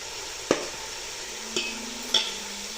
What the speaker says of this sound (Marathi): आता नरम झाले तेलामध्ये परतून घेतलंय चांगलं